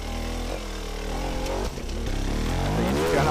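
A hard enduro motorcycle engine at the 24MX Alestrem 2018 race, revving loudly and close with a strained, fluctuating tone and a brief dip before climbing again.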